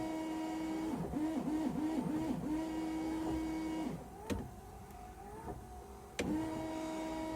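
Rear wiper motor on a VW Golf Mk4 whirring steadily with repeated rising and falling strokes, then pausing briefly before starting again, moderately loud and close with no talk.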